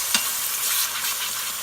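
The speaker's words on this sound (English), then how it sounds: "Toss this lovely chunk of meat in there. There we go. Listen to that sizzle." A chunk of meat searing in a hot Instant Pot gives off a steady, bright sizzle, heard close up with no talking.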